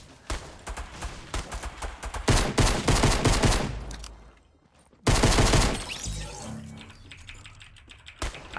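Gunfire in Fortnite Battle Royale, rapid bursts of loud shots in dense clusters with a short gap before another heavy volley, tapering off toward the end.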